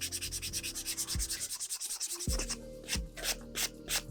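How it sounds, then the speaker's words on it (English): The edge of a leather wallet is sanded smooth by hand in quick, steady back-and-forth rasping strokes. The strokes are close and clear, with no talking. "I'm just trying to sand it smooth"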